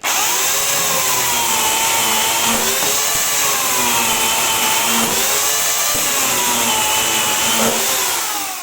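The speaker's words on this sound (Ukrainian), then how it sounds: "Але спочатку на щільове ми вріжемо сухого граба." A Bosch Universal 35 electric chainsaw fitted with a Stihl chain cuts through dry hornbeam, a steady loud whining motor drone with a wavering pitch as the chain bites into the wood, continuous for the whole stretch, with no talk.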